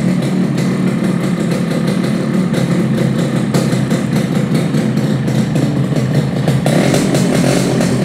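Yamaha RX King two-stroke motorcycle with a chamber exhaust and cut air filter, idling and revving in a loud, close, continuous rattling buzz that swells slightly near the end.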